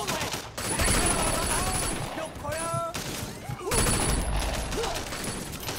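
Gunfire from Sleeping Dogs: Definitive Edition rattles in dense, loud bursts of rapid shots, pausing briefly before another volley, with voices talking over the battle.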